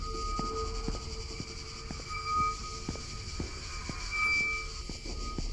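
Train carriages rumble steadily in the horror video game The Ghost Train, with regular rhythmic clacks of the wheels over rail joints under a constant hum and faint high insect-like buzzing.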